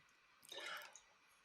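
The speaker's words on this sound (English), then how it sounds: "Do you know why I've got the sound of dripping water?" A single soft water drip or small liquid splash, brief and faint against a quiet background.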